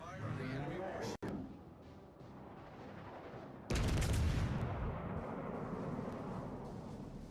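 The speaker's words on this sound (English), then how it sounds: "Concentrate fire on the enemy warship." Naval guns fire at an enemy warship in World of Warships: a sudden loud, booming blast midway, followed by a sustained heavy rumble over steady battle ambience.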